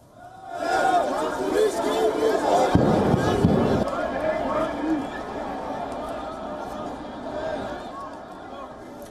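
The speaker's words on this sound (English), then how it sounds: "The hundreds of protesters hurled petrol bombs at the police, who in turn resorted to firing tear gas canisters" Street clash between hundreds of student protesters and police in central Athens, Greece, with petrol bombs and tear gas canisters fired; a loud crowd roar and chatter swell, with a sharp burst of impacts near the middle, continuing as a steady din.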